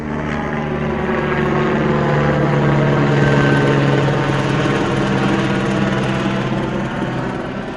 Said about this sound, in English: helicopter comes out and buzzes the island